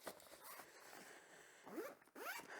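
Zipper on a pedalboard gig bag pulled open in a few quick rasping strokes, close and quiet, with no talk.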